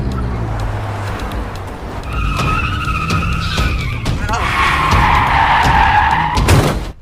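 A car's tires skid and squeal loudly as it swerves suddenly, with two long screeching stretches over a rumbling engine and road noise, ending in a sharp burst.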